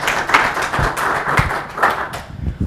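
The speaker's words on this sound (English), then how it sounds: "if we can have an applaud" A conference audience gives a short round of applause, dense overlapping hand claps filling the room at a steady level from start to finish, with no speaking over it.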